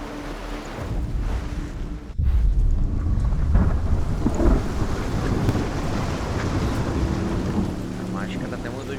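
Thunder cracks and then rolls loudly over steady heavy rain in the video game Hellblade: Senua's Sacrifice, a dense storm roar that swells abruptly and keeps rumbling throughout.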